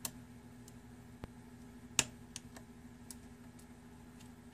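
Sharp, sparse clicks from picking an ERA Kitemark euro cylinder lock, a handful of crisp ticks spaced irregularly over a low steady hum, close and quiet.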